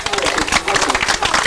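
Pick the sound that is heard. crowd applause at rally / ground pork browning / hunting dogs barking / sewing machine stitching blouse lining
crowd applause at rally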